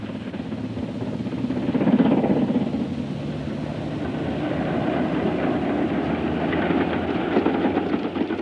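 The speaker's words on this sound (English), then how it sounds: "the train climbs up the valley of the River Shin before shutting off for Lairg." A steady, rumbling steam train labours up the River Shin valley in the Scottish Highlands, with a dense low roar and faint rhythmic chuffing throughout.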